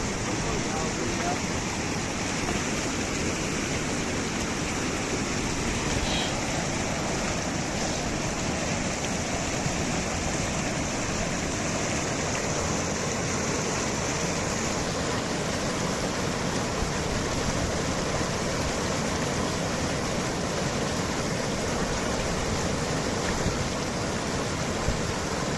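A river stream at a fishing spot flows with a constant broadband rush of water, steady and fairly near, with no distinct events over nearly half a minute.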